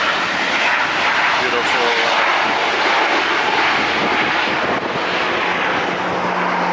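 A Turkish Airlines Boeing 777 at LAX sends out a loud, steady roar of jet engines that fills the whole stretch without letup, while a voice speaks briefly over it.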